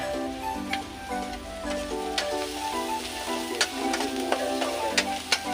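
Samosa filling with sabzi masala fried and stirred in a pan, a low hissing sizzle under regular spoon clacks and scrapes, close and moderately loud, with a faint steady tonal hum in the background.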